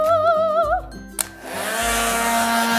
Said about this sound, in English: To speed up drying time, you can use a hairdryer.